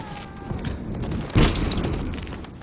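A deep boom bursts out amid a steady roar of distant blasts and rumbling, like a battle raging, with no voices, from explosions in a video game battle.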